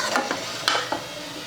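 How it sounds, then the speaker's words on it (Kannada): A spoon stirring a tempering of spices through a pan for kayi saaru, several short scraping strokes over a low sizzle, close and alone. "ಇದೆಲ್ಲ ಒಗ್ಗರಣೆ ಜೊತೆಗೆ ಸ್ವಲ್ಪ ಮಿಕ್ಸ್ ಮಾಡ್ಕೊತೀನಿ ರೀ."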